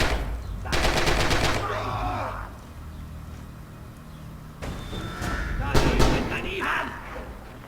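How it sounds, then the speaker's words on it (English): Gunfire in a multiplayer World War II shooter tournament match, with close bursts of automatic fire, a pause, and then more rapid shots and thuds near the end. "another axis goes down, but another ally dies too, and Bilbo goes under fire"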